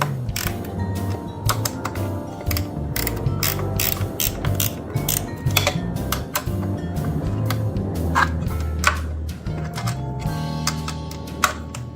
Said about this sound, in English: This one has plenty of room for a wrench.